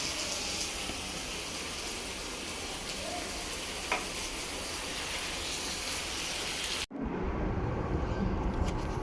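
Pancake batter frying in a pan, giving a loud, continuous hiss of sizzling that cuts off with a clunk as the lid goes on, then continues muffled and quieter beneath it.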